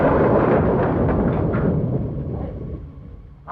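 Loud, rumbling thunder from a storm with heavy rain, a broad low roar that fills the scene and slowly fades, then a fresh burst swells up at the very end.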